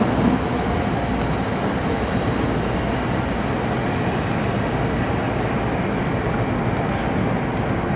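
A panoramic passenger train rolls through Manggarai station, a steady, loud, continuous rumble of wheels and carriages that holds at one level for the whole stretch, with no voices.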